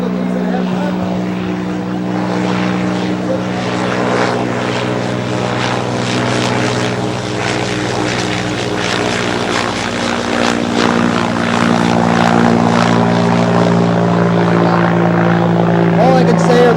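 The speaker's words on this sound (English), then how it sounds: "All I can say are those guys are nuts driving around in those planes like that." Propeller airplanes at the Fairborn Heritage Days 2008 event fly overhead, their engines giving a loud, continuous drone that swells slightly and holds steady throughout, with faint voices underneath.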